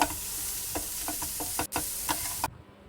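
A dish seasoned with Maggi masala, salt and turmeric fries in a pan under a steady sizzle, with several close scraping stirs, before the sound cuts off abruptly near the end; no one speaks.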